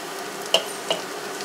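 A knob of butter sizzles with prawns in a hot pan, a soft steady frying hiss broken by two small crackling pops.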